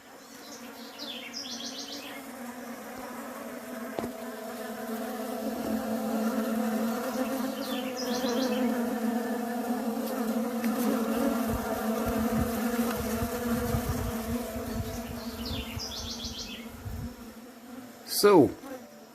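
Honey bees buzz around a homemade pollen substitute feeder, a dense, steady droning hum from many insects close by, with occasional faint bird chirps and a brief louder whoosh near the end.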